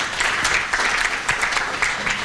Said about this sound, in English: Can you also clap for them?